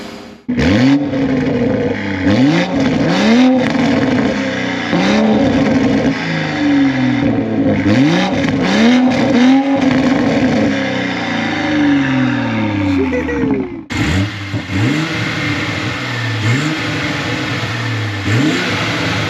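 Bagged 2023 Toyota Supra with a 6-speed manual, its engine revving up and dropping repeatedly through gear changes while driving, loud and close from inside the cabin.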